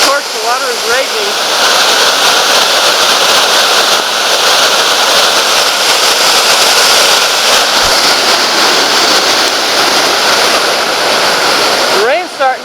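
Loud, roaring rush of a fast-flowing river near Lena Lake, heard from a bridge in the rain, fills the scene continuously, heavy and close, with a voice faintly audible at the start and end.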